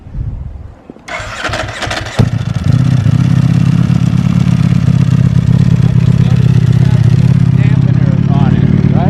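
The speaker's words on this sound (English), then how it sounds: "start up this one real quick, since you've never heard the dry clutch before" A custom Ducati Monster 1200 with a dry clutch fires up after a brief crank and settles into a loud, steady close-up idle, the dry clutch adding a rattly mechanical clatter, while people talk over it.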